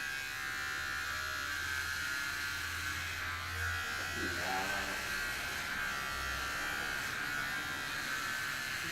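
Electric hair clipper running steadily through a haircut, a continuous close buzz with slight changes in tone as it moves over the hair.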